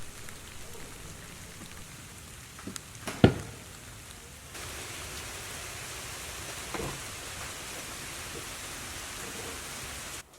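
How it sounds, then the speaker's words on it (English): Heavy rain pours steadily outside a rustic log cabin at Trap Pond State Park, a dense even hiss with one sharp knock partway through, thickening after a few seconds and running nearly to the end. "it started to rain harder"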